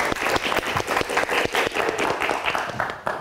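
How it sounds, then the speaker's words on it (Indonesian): An audience at a live evening show applauds a performer named Bilal, a dense continuous wash of many hands clapping, loud and steady throughout without talking. "Oke, kita berikan tepuk tangan untuk Bilal."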